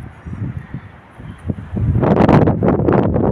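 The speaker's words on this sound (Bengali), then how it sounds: "গাছের পাতা দেখছেন কেমন চলছে, প্রচণ্ড হাওয়া" Strong wind blowing through tree leaves on an evening walk around an apartment campus in Canada, starting as a soft rustle and swelling into a loud, sustained gusting rush in the second half.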